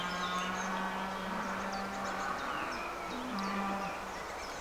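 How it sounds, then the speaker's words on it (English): A cow mooing in a field beside a canal during a narrowboat cruise, giving drawn-out lowing calls at moderate distance over steady outdoor background noise and birdsong. "there's a cow in the field there."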